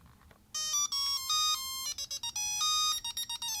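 A decades-old Tiger Electronics Sonic the Hedgehog LCD handheld game powers on with a loud burst of shrill electronic beeps, a stepped chiptune jingle of sustained tones broken by short staccato bleeps.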